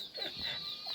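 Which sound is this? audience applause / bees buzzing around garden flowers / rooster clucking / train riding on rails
rooster clucking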